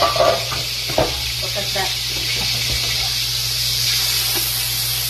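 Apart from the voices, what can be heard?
olive oil and butter sizzling in a preheated pan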